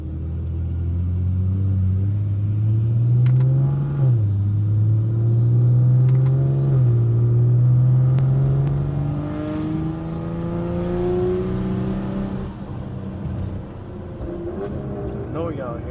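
A car with a 6870 turbo revving under load, a loud, near engine rumble whose pitch climbs and falls across repeated pulls, with turbo spool whistle rising over it, sustained throughout.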